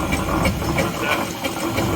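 A rusted Proctor standard three-point steam roller runs at a steam rally, giving a steady mechanical chuffing and rumbling with faint periodic beats, close and fairly loud, with rally ambience around it.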